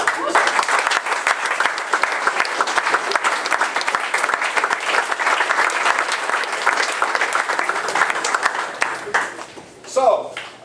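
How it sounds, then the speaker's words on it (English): Sustained applause fills a banquet hall for the Floyd Central Highlander men's basketball teams at their 2019 banquet. Dense, even clapping from a large crowd runs for about nine seconds, then thins out and stops, with a brief voice near the end. "I think they all deserve a round of applause"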